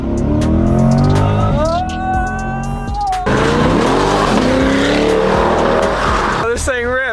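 A 2020 C8 Corvette is driven hard, its engine roaring and revving loud and close while the tires squeal and skid in rising and falling sweeps, with a voice briefly over the noise.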